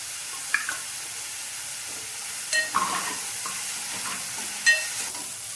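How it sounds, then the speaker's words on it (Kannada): Onions and curry leaves frying in a pan give a soft, steady sizzle with three brief stirring clinks and scrapes of a utensil against the pan, close and fairly quiet. "ಇವಾಗ ಈರುಳ್ಳಿ ಚೆನ್ನಾಗಿ ಫ್ರೈ ಆಗಿದೆ."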